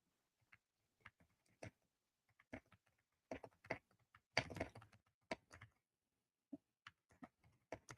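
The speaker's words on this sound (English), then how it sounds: "She's typing furiously." Rapid bursts of computer keyboard typing, uneven clusters of sharp clicks with brief pauses, close and fairly quiet with no voices.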